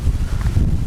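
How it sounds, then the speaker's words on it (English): Wind buffeting a microphone while cycling on a windy road with a tailwind, a steady close low rumble filling the whole second with no speech. "It's very windy,"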